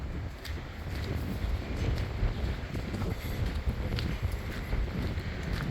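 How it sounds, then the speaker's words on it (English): Steady wind buffets the microphone with a low rumbling roar, continuous and fairly loud throughout, with faint scattered knocks in the background. "Ooh, it's windy today."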